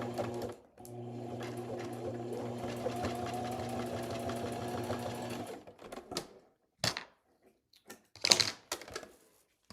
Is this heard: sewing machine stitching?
yes